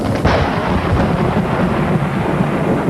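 Thunder from a squall-line thunderstorm rumbling loudly and close, a deep rolling boom with a sharper crack near the start, over a hiss of rain.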